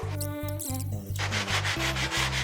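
A door frame is sanded by hand with coarse 80-grit sandpaper, steady close rasping strokes repeating back and forth over a tonal background.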